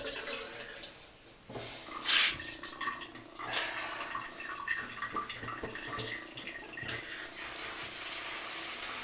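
A Wolf Whiskers shaving brush is rinsed under running water, a soft splashing and trickling flow with a brief louder gush near the start, then uneven sloshing that continues without speech.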